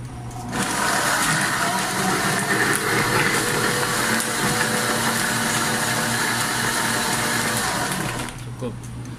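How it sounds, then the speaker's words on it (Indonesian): A countertop blender runs steadily at full speed for about eight seconds, blending watermelon juice with lemon, with a loud constant whirring motor that starts and stops abruptly. "Lalu kita blender."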